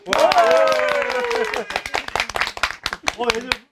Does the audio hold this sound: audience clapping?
yes